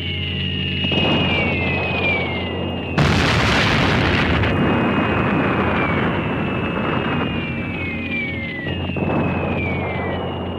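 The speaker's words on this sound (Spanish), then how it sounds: "Granollers sufre otro devastador bombardeo" Aerial bombing of a town during the Spanish Civil War: a continuous rumbling roar with descending whistles of falling bombs and a loud, sudden blast partway through, heavy and close.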